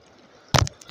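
Sea waves slap against a small fishing boat out among rocks while fishing for tripletail: quiet hiss, then one sharp, close splash-like burst with a fainter ripple after.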